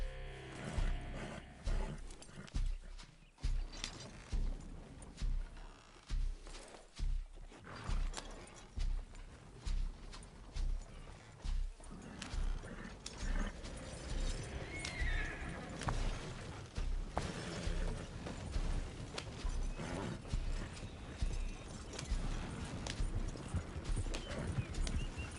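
Galloping hooves and rattling wheels of a horse-drawn wagon in Red Dead Redemption 2, a dense, continuous clatter with roaring animal sounds mixed in, loud and busy throughout with no talk over it.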